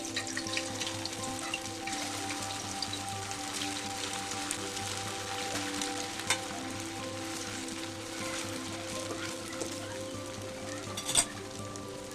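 Snacks deep frying in oil on medium heat give a steady, close crackling sizzle throughout, with a low background hum and a couple of brief clinks.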